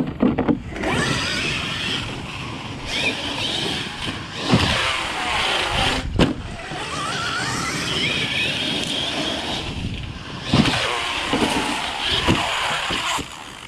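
A Traxxas X-Maxx RC truck with a Castle Cobra motor runs and bashes around, its whining motor rising and falling in bursts amid bumps and knocks, with no talking.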